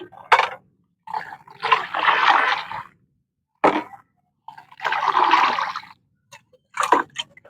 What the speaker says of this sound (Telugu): కొన్ని నీళ్ళు పోద్దాం